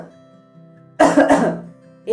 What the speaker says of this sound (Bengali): এইভাবে পেশেন্ট যখনই কাশে তখনই দুবার করে কাশি হয়